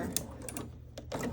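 A sewing machine stitches a parallel row of stitches across fabric for a tiered maxi dress, with short bursts of rapid mechanical whirring broken by brief pauses, close and fairly quiet.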